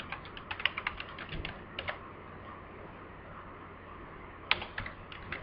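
Quick bursts of keystrokes on a computer keyboard while a part name is entered in CAD software, a cluster of clicks near the start, a pause, then a shorter burst near the end over faint room hiss.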